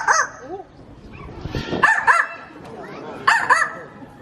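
At African Lion Safari in Ontario, Canada, an animal mimics a dog's bark with a few short yappy barks and whimper-like calls, close and clear, spread over a few seconds.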